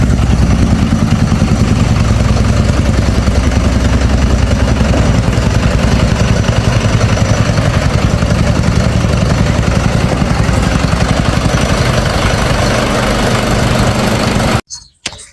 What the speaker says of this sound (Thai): เครื่องเป็นเครื่องยนต์อินไลน์ ระบายความร้อนด้วยน้ำ